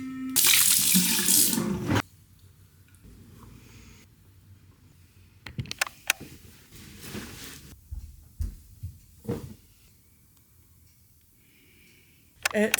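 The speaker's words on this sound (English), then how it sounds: "I'm going to wash my face and get ready for bed" Tap water gushes loudly into a bathroom sink for face washing, then stops, leaving quiet splashes, rubbing and a voice, before the faucet runs again at the end.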